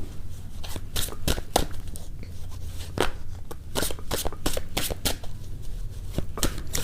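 Tarot cards being shuffled and drawn by hand, a close, rapid run of crisp riffling snaps and flicks that keeps going steadily with no voice over it.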